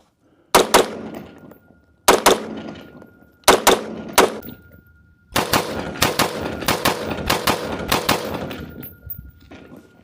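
Gunfire from a firearm held pistol-style and shouldered, fired as sharp close bursts: two shots, then two more, then a longer rapid string of cracks with ringing metallic clangs between them.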